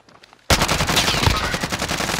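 Call of Duty: Modern Warfare gunfire, sudden sustained rapid automatic bursts starting after a brief quiet, loud and close, continuing to the end.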